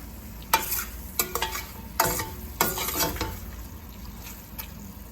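Eggs frying in a pan with salt and chili powder, soft sizzling beneath repeated scraping strokes of a spatula, about five or six distinct stirring bursts over a few seconds.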